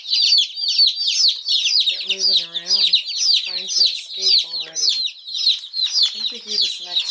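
Many day-old chicks peep continuously and loudly up close, a dense overlapping chorus of high chirps, while a person talks intermittently over them.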